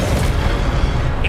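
The Incendio fire spell cast in the video game Hogwarts Legacy comes as a loud, dense whooshing roar of flame, steady and full for over a second.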